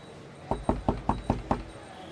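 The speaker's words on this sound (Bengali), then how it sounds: "তারপর অনিরুদ্ধর দরজায় গিয়ে কড়া নাড়ল।" A door knocker raps six times in a quick, even series, each blow sharp and close, with silence before and after.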